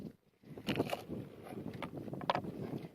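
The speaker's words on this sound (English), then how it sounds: "So unfortunately it's a little bit windy day today" Gusty wind buffets the microphone at an outdoor Pad Thai cooking demonstration on an organic farm, a steady low rumble with uneven rushes across the whole stretch.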